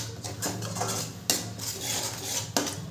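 A spoon scrapes and clinks against a pot while cashew and poppy seed paste is stirred into Bengali dhokar dalna, with a few sharper metallic knocks standing out over soft, steady scraping.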